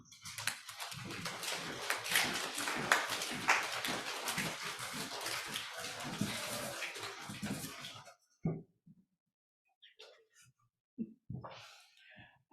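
Group of people slapping hands and thighs in rhythm to imitate galloping horse hooves, a dense patter of claps for about eight seconds that stops abruptly, followed by a few scattered isolated taps in near silence.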